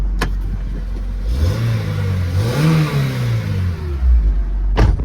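A 2004 Acura RSX engine idles, then revs up sharply, rises and falls back, before a second quick rev near the end; loud and close.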